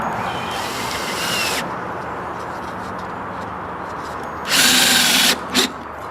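A power drill drives screws into the wooden frame of a chicken tractor: a brief whirring run near the start, then two loud close bursts later, the last one short, over a steady outdoor background.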